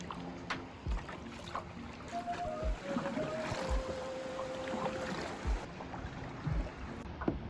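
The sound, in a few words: kayaking on the ocean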